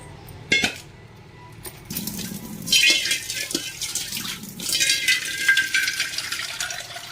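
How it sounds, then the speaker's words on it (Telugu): Cut jackfruit pieces are washed by hand in water like rinsing rice, with splashing, sloshing and a few knocks against a vessel, fairly close and with no talk. "పంచ ముక్కల్ని బియ్యం కడిగినట్టు కడుగుతారా"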